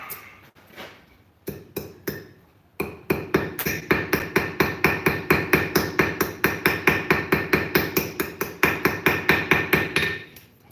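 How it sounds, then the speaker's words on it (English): Ball peen hammer cold riveting heat-treated forged scissors: a long run of sharp, evenly spaced metallic strikes, close and loud, after a few scattered taps, with no talk. "using this ball peen hammer."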